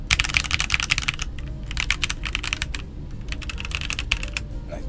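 Rapid clacky keystrokes on a mechanical keyboard with red switches, a 75% hot-swap board, steady and close, with brief pauses between bursts of typing.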